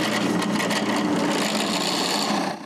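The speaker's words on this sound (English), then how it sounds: "I need to drill 2 pilot holes from the bottom." A drill bores small pilot holes up through the bottom of a wooden board game stand, producing a brief, close, steady rasping whir of bit cutting into wood that stops abruptly.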